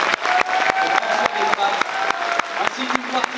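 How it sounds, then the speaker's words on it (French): Applause from a Comic Con Paris 2019 audience welcoming a series' directors and cast, dense clapping with sharp individual claps and a voice talking over it through the whole stretch. "sous un tonnerre d'applaudissements"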